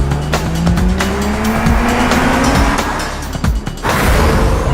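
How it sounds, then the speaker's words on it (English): A Mercedes-Benz GLC driven hard off-road to warm its tires, loud close tire squeals and skids over a revving engine, with brief thumps and breaks between bursts. "I need to warm up these tires."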